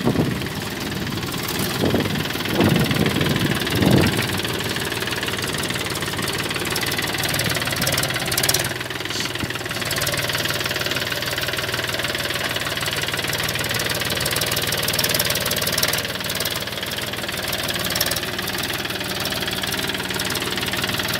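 A Mahindra 265 DI tractor engine labours under load pulling a 9-tine cultivator in a field, a steady knocking diesel drone heard close and continuous, with a few clanks near the start.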